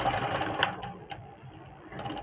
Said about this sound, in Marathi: एकदा जोडून झालं त्याच्यावर डबल अशी शिलाई मारून घ्यायची